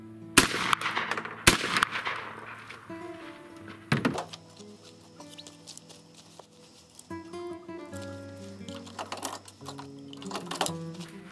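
A shotgun fires a reloaded shell with a 1 ounce shot load. Several sharp, loud bangs ring out, spaced seconds apart, with quieter mechanical clatter and ringing between them.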